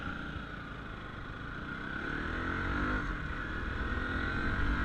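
A 2017 Bajaj NS200 motorcycle being ridden on an open road, its engine a steady broad drone that swells slightly as it pulls, mixed with continuous wind rush and no voices.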